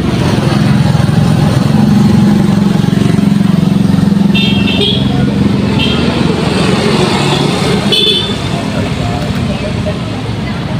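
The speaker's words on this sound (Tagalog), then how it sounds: "Maraming dumadaan ng mga motor ito ngayon mga kadol." Motorcycles and other traffic rumble past on a road in a Filipino town, a loud continuous engine drone with brief horn toots mixed in, while people talk nearby.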